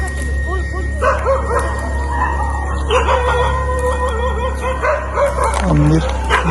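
Several dogs bark and yelp in a busy, overlapping chorus at a cemetery at midnight, fairly close, with a steady hum underneath.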